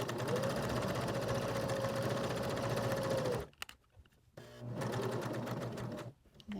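A sewing machine runs steadily while stitching fabric for a pieced Santa Christmas ornament, a close, loud continuous whir that halts briefly, restarts for a shorter run, then stops again.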